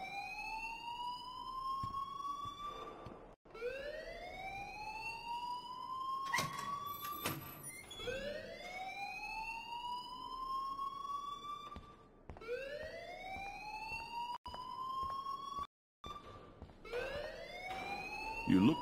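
A school fire alarm blares in the game Life Is Strange, a loud electronic siren repeating rising whoops in a steady cycle, with a few short breaks and bursts of other game noise between sweeps.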